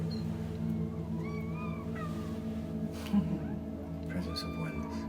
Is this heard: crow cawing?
no